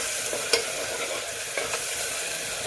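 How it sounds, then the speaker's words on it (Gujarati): Gravy for a drumstick curry cooking in a pan, a constant bubbling sizzle broken by a few spatula knocks and scrapes as it is stirred, no voices. "આ રીતે સરસથી હલાવી નાખવાનું બધું"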